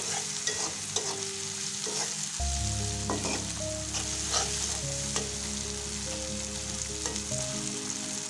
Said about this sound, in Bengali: এরপর অল্প লবণ দিয়ে দিচ্ছি, এরপর নেড়ে চেড়ে দিব হালকা।